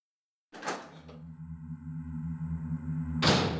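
A door opens in the survival-horror game Resident Evil, with a brief clack, then a low sustained mechanical hum and creak lasting a few seconds, ending in a louder burst of noise.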